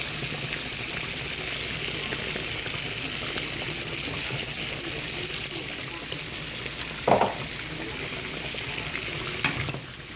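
Zucchini simmering and sizzling in a pan as a vegetable side dish, a steady broad frying hiss with a brief stir or clatter near the end.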